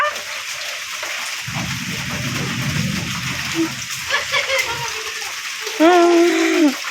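Steady rain pours down at a grandparents' home while children bathe in it, a continuous wash of falling water with voices and children's chatter rising over it and a brief high-pitched cry near the end.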